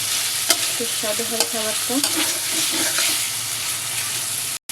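Large prawns fry with spinach in a pan, giving a steady loud sizzle with stirring scrapes and a few utensil knocks throughout, while a voice speaks briefly over the cooking.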